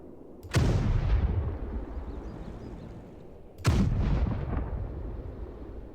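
Artillery fires twice in the wargame Panzer Campaigns Minsk 44. Each shot is a sharp, loud blast followed by a long, rumbling tail that fades slowly, with a few seconds of quiet between them.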